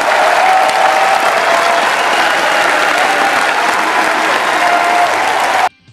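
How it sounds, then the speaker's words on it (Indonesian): Airplane passengers applaud their captain after a rescue, loud continuous clapping from a packed cabin that stops abruptly near the end. "Kapten Brody Torres mendapat tepuk tangan yang sangat meriah atas usahanya menyelamatkan nyawa seluruh"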